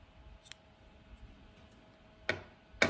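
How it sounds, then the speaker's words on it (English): Scissors cut crochet yarn with two crisp snips near the end, after a faint click earlier, in a quiet room with a low hum and no talk. "chain 1 and then cut our yarn"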